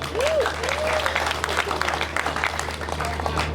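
An audience at a political endorsement event in Nigeria applauds, a dense burst of clapping that carries on evenly throughout, with a voice briefly heard over it at the start.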